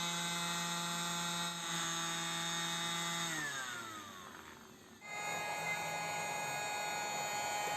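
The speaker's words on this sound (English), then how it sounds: "Vacuum cleaner." A vacuum cleaner runs with a steady motor whine and a high tonal drone, dips and sputters briefly midway, then resumes at full strength.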